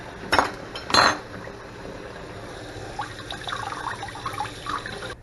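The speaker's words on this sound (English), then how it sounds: "here is where you're going to want to rinse the fish off before you clean it" Crappie being rinsed under water before cleaning, heard as two sharp clinks up front and then a low steady trickle and splash of running water with faint knocks, near and fairly quiet, with no talk.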